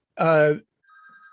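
A telephone rings with a thin, steady electronic tone that starts right after someone speaks a brief word, the ringing fainter than his voice.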